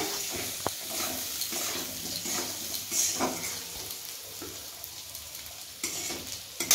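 Spice masala, sweetened with a little sugar, frying in separated oil for a paneer curry, a close, steady sizzle broken by stirring scrapes and a few utensil knocks.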